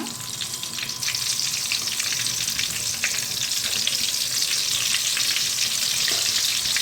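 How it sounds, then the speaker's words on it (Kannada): Mirchi bajji, spicy chili fritters, deep fry in hot oil over a high-to-medium flame, giving a loud, dense and steady bubbling sizzle that rises slightly after the first second and carries on without any voices. "ಮಿರ್ಚಿ ಮಾಡ್ತಿರ್ಬೇಕಾದ್ರೆ ಯಾವಾಗಲೂ ನಾವು ಉರಿನ ಹೈ ಟು ಮೀಡಿಯಮ್ ಫ್ಲೇಮಲ್ಲೇ ಇಟ್ಕೊಂಡು ಮಿರ್ಚಿ ಹಾಕೋಬೇಕು"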